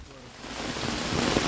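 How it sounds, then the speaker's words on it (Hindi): Heavy rain pours steadily outdoors, a dense, continuous hiss that swells slightly louder toward the end, with no voices over it. "मतलब कितनी तेज बारिश होगी देखो।"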